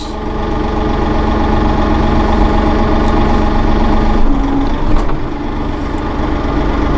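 A 2016 Massey Ferguson 1736 Premium Cab compact tractor hums at a steady engine drone while its loader cycles, with a brief rising hydraulic whine partway through and a small clunk near the end.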